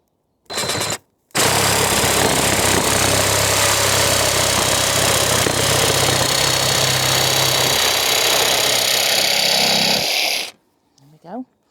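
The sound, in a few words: power tool cutting a wooden pallet collar hinge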